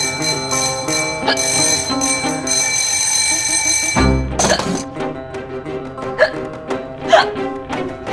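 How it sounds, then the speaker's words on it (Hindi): Hiccups from a woman in a Hindi comedy TV drama come in short, sharp bursts after ringing bell-like music, several spaced hiccup sounds standing out near and loud against a faint background. "आपको इतनी हिचकी क्यों आ रही है?"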